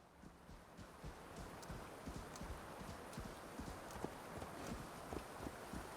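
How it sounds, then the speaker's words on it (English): Horse hooves trot in the Assassin's Creed Valhalla video game, a steady clip-clop rhythm of repeated hoofbeats at moderate volume with no voices. "But it doesn't seem the horse wants to do any better."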